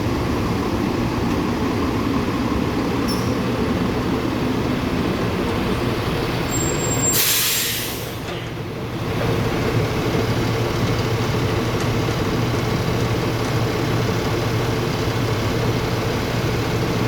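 A truck collecting empty containers idles with a steady, loud low engine rumble throughout, broken near the middle by a brief sharp hiss of air brakes.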